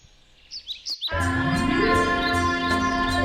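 A baby bird sings a bright, clear warbling song for a children's story, starting with a few short chirps and then flowing into a sustained melodic trill over soft musical backing.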